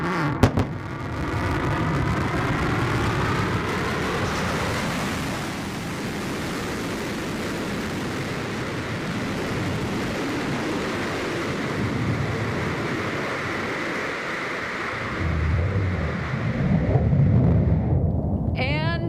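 New Shepard rocket's BE-3 engine firing during landing, a loud, steady broadband roar lasting throughout, with a brief surge near the end, as at touchdown.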